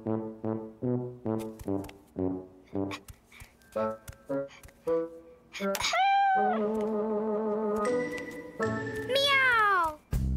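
Cartoon cat meows in a children's animated show, several drawn-out rising and falling mews over bouncy music with a chirpy child-like voice chiming in between.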